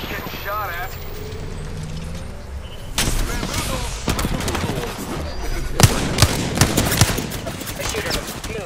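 Gunfire erupts in the Apex Legends battle royale game: sharp, loud bursts of rapid shots arrive in clusters after a quieter opening, with a voice talking over the action.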